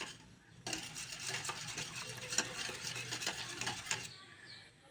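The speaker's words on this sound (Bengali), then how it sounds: "এই তো দুধগুলো আমি গরম করে ডিমের সাথে ঢেলে কতক্ষণ একটু মিক্স করব।" Warm milk being mixed into eggs for a pudding, a soft steady stirring and light clinking of a utensil against a bowl, faint and close, with no talking.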